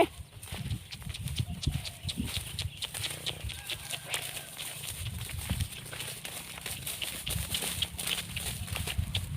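Cattle being driven out to graze on a farm pasture in the early morning, hooves thudding and shuffling across ground in a steady run of soft uneven steps at moderate distance, with faint rustling throughout and no clear talk.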